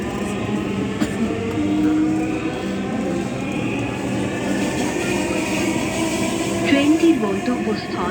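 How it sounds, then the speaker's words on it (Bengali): A Dhaka metro rail train runs between stations on the Farmgate to Mirpur line, a steady rumble and rolling hum heard from inside the carriage, with faint whines and occasional clunks throughout. "This train is bound for Uttara North."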